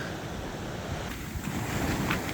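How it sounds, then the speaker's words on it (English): Sea waves crash and wash over wet beach stones on a coastal walk between Gilfach and New Quay in Wales, a close, continuous rushing surge with wind buffeting the microphone. "So the water is crashing up on the top of these stones."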